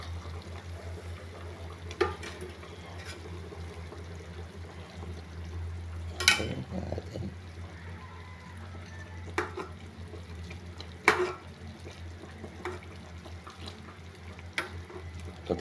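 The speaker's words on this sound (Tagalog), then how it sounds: "halo-haluin ko lang yan" A pot of chicken adobo with liver and gizzards simmers and bubbles softly while a spoon stirs it, giving scattered light scrapes and clinks over a low kitchen hum, with no talking.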